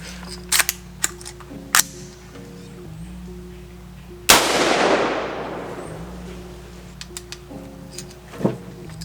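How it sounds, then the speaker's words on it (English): A 300 Blackout AR pistol fires a single loud shot from the hip, a sharp blast with a long ringing tail, preceded and followed by scattered small clicks and handling noises. "first shot with the 300 Blackout, and I'm gonna hip shoot it in case it blows up"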